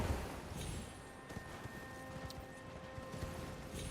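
A horse's hooves clip-clop at a trot in the Elden Ring video game, a steady run of soft, muffled thuds under a faint tonal hum from the game's ambience, with no talk.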